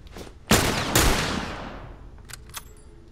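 Gunshots in The Last of Us video game: two loud, close blasts about half a second apart with long decaying echoes, followed by fainter clicks and small impacts.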